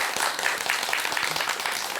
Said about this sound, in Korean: 박수가 너무 가식적인 것 같아요